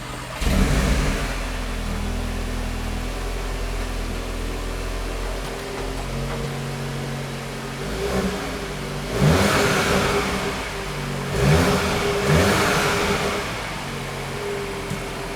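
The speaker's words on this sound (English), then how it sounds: "start the car, give it a few revs, and hear what this car sounds like" A 2022 Audi S3 with the sport package starts up, settles into a steady idle, then is given several sharp revs that swell and fade in quick succession, close by and loud.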